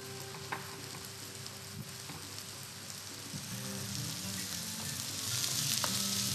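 Food frying in a pan on a home cooking show, a continuous crackling sizzle with occasional sharper pops, steady and close, growing slightly louder toward the end with no talking.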